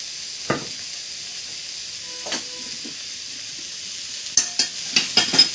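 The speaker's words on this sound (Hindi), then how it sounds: "अब हम दूसरी कढ़ाई में गरम होने के लिए ये रिफाइंड ऑयल देती हूँ" Refined oil heats in a second kadai, a faint low hiss broken by a few sharp crackles and spits that grow more frequent toward the end, with no voices.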